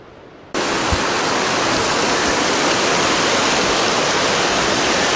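Steady, dense roar of a large waterfall at Burgess Falls State Park in Tennessee, starting abruptly after a brief quieter moment and holding loud and constant throughout with no voices.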